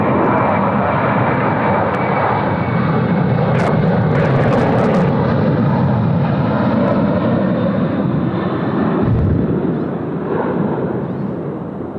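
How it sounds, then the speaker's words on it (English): A Qantas airliner lands at Sydney Airport in gusty crosswind conditions, its engines roaring loud and steady throughout before the noise eases slightly near the end, with no talk. "Qantas 436, threshold wind 220 degrees 19 knots, crosswind 16, runway 16 right,"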